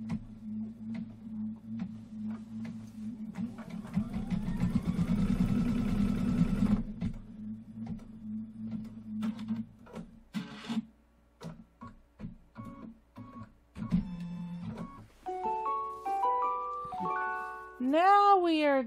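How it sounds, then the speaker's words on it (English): Embroidery machine stitching a Santa design's eye in red thread: a steady low mechanical hum with fast rhythmic needle ticking that stops partway, followed by scattered clicks and rising electronic beeps. "let's stitch out his eye."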